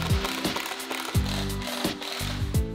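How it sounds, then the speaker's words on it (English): Screws being driven into a wooden DIY mirror frame, a faint ratcheting, whirring mechanical sound repeating in short pulses, close and alone with no talk. "we just screw it all together."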